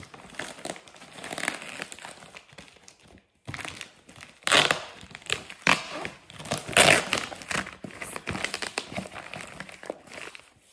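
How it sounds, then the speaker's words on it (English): Cardboard shipping box being opened by hand, with crinkling and crushing packaging noises in bursts and short pauses, close and fairly loud, no talking. "this is just a weird video of me trying to open a box"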